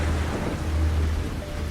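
A thunderstorm rumbles low and constant under a dense wash of heavy rain, loud and enveloping, used as a dark story sound effect with no voices.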